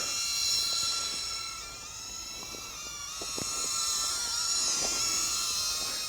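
Eachine E016H toy drone motors at full throttle give off a steady high-pitched whine with layered harmonic tones, holding for several seconds with slight swells in pitch and loudness.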